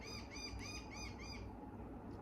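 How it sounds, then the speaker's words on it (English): A bird calls outside in a short series of repeated rising chirps, fairly faint and distant over a steady background hiss, the last call fading out. "I've got a bird wanting to join in outside."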